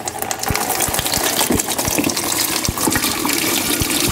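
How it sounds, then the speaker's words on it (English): Old battery solution poured from a car battery into a bucket, a steady loud gushing splash of liquid with small irregular knocks throughout. "we're gonna dump the solution in our bucket"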